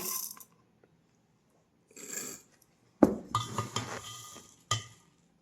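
Rice and red lentils are spooned into a container in short bursts: a soft pour, then several sharp clinks and rattles of grains and spoon against the vessel, close and separated by silent gaps.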